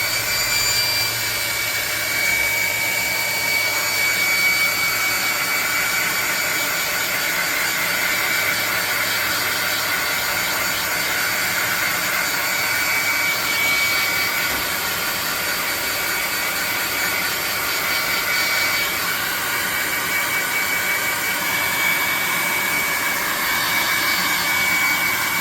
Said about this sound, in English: get the hot air gun out and see if we dried this thing off enough to cook